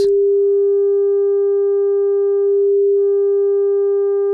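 A steady pure sine tone holds with a few faint overtones added by harmonic saturation, smooth and unbroken for several seconds, loud and alone.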